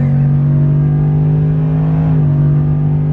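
A cammed Ram pickup truck revs hard and accelerates with its tires spinning, giving a loud, steady, close-up engine roar whose pitch dips slightly near the end, with no talking.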